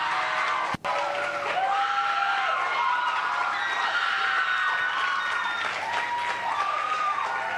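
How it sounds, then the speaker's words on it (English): A church congregation gives a big round of applause for a youth pastor, sustained clapping from a crowd with some cheers and a few voices calling out above it. "So if we can give a big round of applause to our amazing brother, Hwung King"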